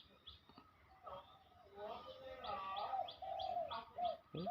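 A spotted dove coos in a repeated soft, rhythmic phrase nearby, with faint chirps and a quiet outdoor background.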